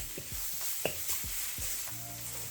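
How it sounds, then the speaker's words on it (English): Mixed vegetables stir-frying in a pan, with a steady close sizzle broken by repeated scraping and stirring strokes of a utensil in a loose rhythm. "constantly stirring to make sure that nothing burns and everything is kind of stir frying nicely"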